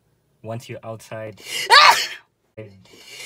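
A single loud sneeze bursts out between stretches of nearby speech, with talking before and after it.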